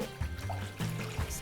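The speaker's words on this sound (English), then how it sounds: "So I'm just gonna switch the water out and rinse this off." Tap water runs in a kitchen sink to rinse a cast iron skillet during seasoning, a close, uneven trickle and splash with a few louder bursts as the flow shifts, with no talking.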